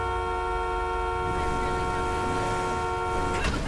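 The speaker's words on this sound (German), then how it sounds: "Ich hab gehupt, ich hab gehupt." A vehicle horn blares in Grand Theft Auto 5, a sustained loud chord-like honk over engine rumble that stops abruptly near the end.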